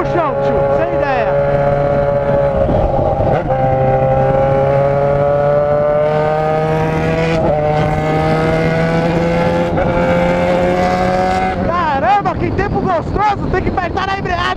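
Yamaha XJ6 motorcycle engine revving loudly on a city street, Rua Augusta, steady high drone rising in pitch through several throttle pulls and gear changes, with wind buffeting and a rider's voice over it.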